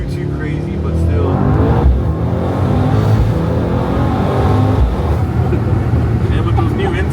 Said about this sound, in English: And with those new intakes, dude, that turbo sound it's sick, man.